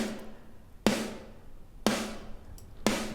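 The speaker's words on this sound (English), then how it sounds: "Very slappy, papery snare now." A snare drum cut with EQ hits three times at roughly one-second spacing, each stroke sharp, slappy and papery with a short ringing decay and no other sound.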